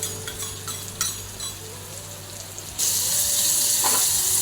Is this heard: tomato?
yes